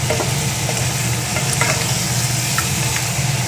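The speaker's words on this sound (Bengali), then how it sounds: "মশলাটা ভালো করে কষাতে হবে" Spices for mutton curry fry in a pan with a loud, continuous sizzle, overlaid by scraping and stirring strokes, heard up close with no talking.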